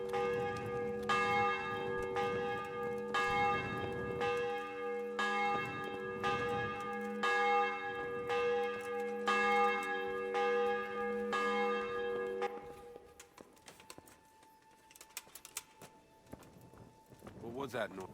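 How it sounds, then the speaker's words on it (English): A church bell in the medieval game Kingdom Come: Deliverance rings with repeated, resonant strokes for about twelve seconds, then fades. Hoof-like clopping or footsteps play underneath, and a quieter tail follows. "The bell's ringing, he must be in there."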